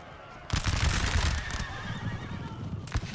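Horses neigh during a Napoleon: Total War battle, with loud whinnies rising out of noisy battlefield commotion and a sharp burst near the end.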